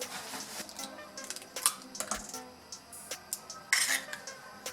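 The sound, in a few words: beating tea cake batter with eggs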